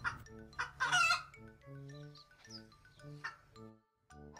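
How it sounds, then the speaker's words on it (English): Chicken clucking in a children's animal-learning piece, several short clucks in a bouncy rhythm over a backing melody, loud and close. "Will you sound out a chicken with me?"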